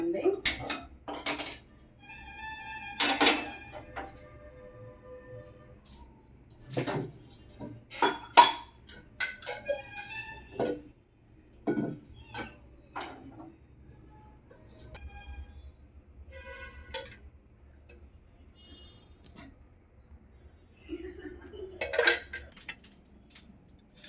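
While an omelette with bread is prepared, a metal pan clanks down with scattered clinks of utensils and cookware, and faint oil pouring sits among quiet gaps.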